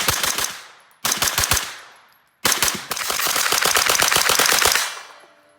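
A Cobalt Kinetics pistol caliber carbine fires outdoors in three loud, close bursts: two short quick strings, then a longer rapid string of shots, each ending in a ringing decay.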